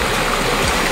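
A strong current in a cold stream at Mayana, Barili rushes loudly and continuously with a close, full wash of water and no pauses.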